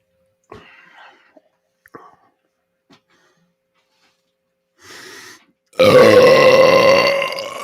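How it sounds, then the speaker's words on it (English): A man lets out a long, loud, deliberate burp lasting nearly two seconds after a stretch of quiet broken by brief clicks and breaths, the burp rough and throaty, close to the mic. "I've decided I'm going to try to do one of them burps."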